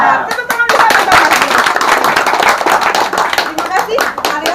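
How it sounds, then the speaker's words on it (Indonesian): A group clapping hands together in unison during a village game simulation, rapid loud rhythmic claps close by with voices mixed in throughout. "Tepuk tangan bersama-sama."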